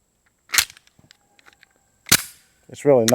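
A Smith & Wesson Shield X pistol fires two sharp, loud shots about a second and a half apart, with faint clinks between them and a short burst of speech right after.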